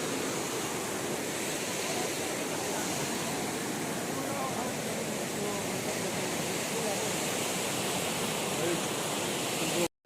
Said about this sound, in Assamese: কি হাৰত পানী যাই আছে চাওকচোন